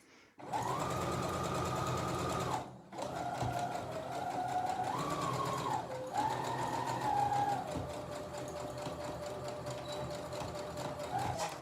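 A sewing machine runs a seam on a fabric door stop and draft excluder, a loud close motor whir that pauses briefly, then continues with shifts in speed as it stitches back and forth.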